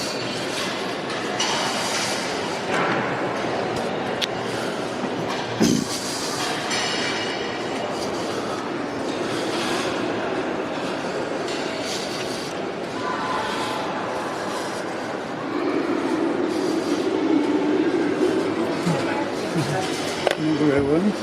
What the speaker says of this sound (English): Now we're going to look at the model railway.